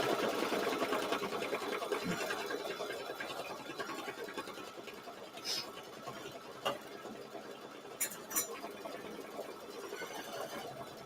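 Embroidery machine stitching an applique on a mini-quilt block, with a continuous, fairly quiet rapid needle chatter and a few sharp clicks along the way.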